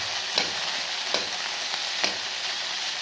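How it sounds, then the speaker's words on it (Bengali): Cubed paneer and vegetables frying in hot oil for restaurant-style fried rice, a steady bright sizzle with a few soft stirring knocks and spatula scrapes, close and continuous with no talking. "মাঝখানে পনিরটা তেলের মধ্যে ভাজা হচ্ছে"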